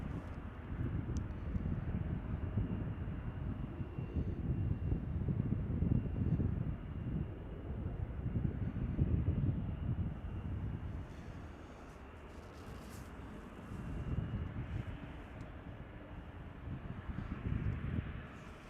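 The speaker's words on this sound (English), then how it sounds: "We've got United Flight 1583 coming in from Denver, Colorado." A United airliner on approach into Chicago O'Hare, arriving from Denver, heard as a steady broad jet rumble with wind noise, distant and sustained, swelling and easing slightly across the whole stretch.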